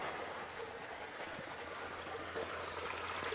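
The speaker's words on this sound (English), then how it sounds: "Get all this water out of the tank" Water drains out of a sprayer tank in a steady, continuous splashing trickle at moderate level, unchanging across the stretch with no voices over it.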